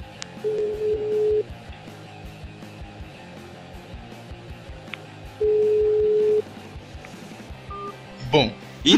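Telephone keypad tones beep on a phone being used to dial with a star and hash prefix code: two long steady tones and several short blips between them, with rapid beeps at the end.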